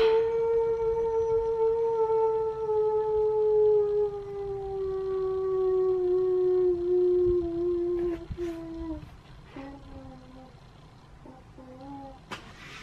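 A dog giving one long sustained howl that slowly falls in pitch, loud and close, trailing off into shorter broken howls and whines near the end.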